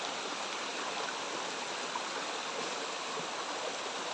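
A mountain stream rushes over stones, a steady broadband watery hiss that stays close and even throughout with no voices.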